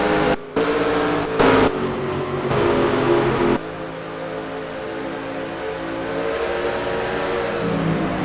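Race car engines drone on pit road in NASCAR Racing 2003 as the pace car leads a car in, a steady mechanical roar with revving bursts early on before settling into a continuous hum.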